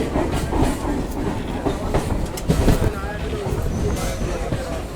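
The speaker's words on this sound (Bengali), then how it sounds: "তো আমাদের ট্রেন এখন ঢুকছে হচ্ছে টালা রেলওয়ে স্টেশনে" A train rumbles and rattles steadily as it rolls along the tracks, leaving Kolkata station and entering Tala station, with a loud, constant clatter and a voice talking under it.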